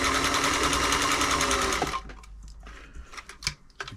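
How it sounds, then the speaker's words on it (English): A Singer 348 sewing machine runs a straight stitch at a steady, loud, fast mechanical whir for about two seconds, then stops, leaving small clicks and handling noises nearby. "I'm just going to give it a little sew. Just run down one more time."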